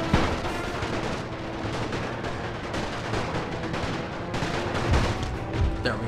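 Massed rifle volleys and artillery in The Great War mod battle game, a dense continuous roar of gunfire with heavy booms standing out near the end.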